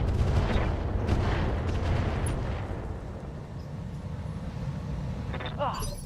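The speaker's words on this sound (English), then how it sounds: "Firing on target." Heavy booming weapon fire from mechs in the RogueTech game, a loud rumbling blast that decays over several seconds, ending with a brief high mechanical whine.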